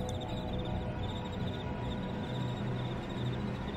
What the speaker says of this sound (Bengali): বাইরে ঝিঝি পোকা এক নাগাড়ে ডেকে চলেছে।